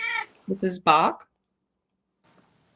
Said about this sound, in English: I have a black cat who just joined me.